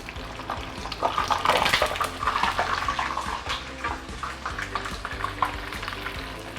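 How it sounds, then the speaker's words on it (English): Pieces of marinated pork plunged into oil heated to at least 180 degrees for a brief deep fry, giving a loud, close, continuous bubbling sizzle that surges and then settles, with no talking. "let's put it in and give it a 10-second deep fry"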